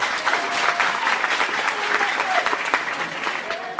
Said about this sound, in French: je vous demande, mesdames et messieurs, de bien vouloir vous applaudir très fort